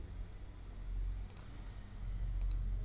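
Computer mouse clicks on an update button in a WordPress editor, two pairs of sharp, close clicks about a second apart over a quiet low hum.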